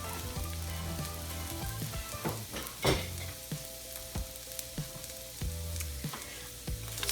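Carrots and other vegetables sautéing in a pan for a frittata, a steady close sizzle with repeated sharp clatters of stirring utensils against the pan throughout.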